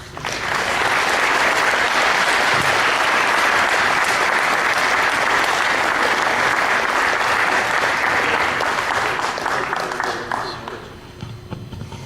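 A crowd at an event honoring veterans applauds to welcome Army Sergeant Major Mark Baylis, loud sustained clapping that holds steady for about ten seconds before tapering off near the end.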